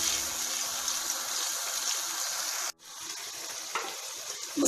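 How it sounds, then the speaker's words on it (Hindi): Tomato, ginger and chili masala paste fries in an oily curry base, giving a steady soft sizzle that briefly cuts out and then resumes, quiet and close. "मसाले में से पानी खुश्क होने तक हम इसको भून लेंगे।"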